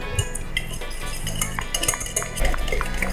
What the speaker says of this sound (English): We need to take softened butter and we just need to whisk it for some time.